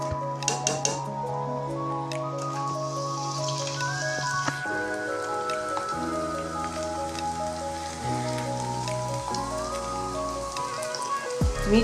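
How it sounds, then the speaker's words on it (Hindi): Mini samosas deep-frying in oil over medium heat produce a steady, rain-like crackle and patter beneath background music. "मीडियम आंच पे हमने इसको फ्राई करनी है, ज़्यादा तेज़ आंच में नहीं करिएगा वरना हमारे समोसे जल जाएंगे"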